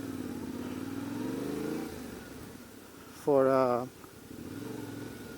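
Yamaha Tenere 700 adventure motorcycle ridden at an easy pace, its mid-pitched engine droning steadily under a rider's talk, with a brief louder surge partway through.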